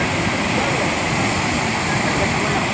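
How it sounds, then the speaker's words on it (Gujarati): The Jamjir waterfall in Gir roars with a loud, constant rush of falling water that fills the scene without a break. "આ છે જમજીર ધોધ"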